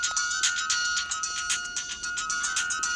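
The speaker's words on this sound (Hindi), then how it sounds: "फोन की घंटी बज रही है।" An electronic ringtone chimes in a fast repeating pattern, clear and steady, with no voices.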